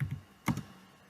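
A few quick keystrokes clack on a computer keyboard while programming code is entered: a couple of light taps, then a sharper cluster of clicks, close and fairly quiet, with no voices.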